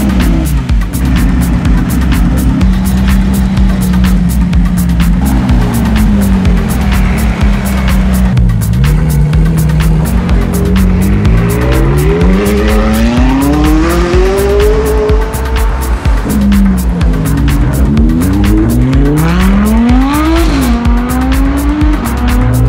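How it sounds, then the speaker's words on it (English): The newest Audi R8, sharing its engine with the Lamborghini Huracan, revs loudly and repeatedly at a car show, its pitch rising and falling in sweeping blips over a continuous crackling exhaust. "This is the newest Audi R8, which shares many features including the engine from the Huracan,"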